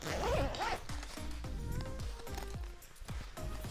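A zipper on a Northbound Gear Voyager expandable backpack is pulled open in a close, continuous run of ratcheting teeth clicks lasting several seconds, with no one talking over it.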